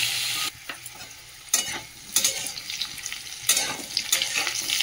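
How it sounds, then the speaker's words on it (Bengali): Chopped papaya and potatoes sizzle in hot oil in a pan, with repeated bursts of scraping and stirring rising over the steady frying hiss. "চলো সবজিটা ভালো করে কষিয়ে নিই তেলের মধ্যে"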